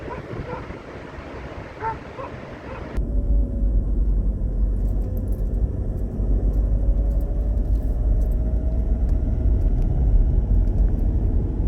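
A car driving along roads in Cornwall, heard as a steady, close engine and road rumble that sets in after a short, quieter opening and carries on evenly to the end.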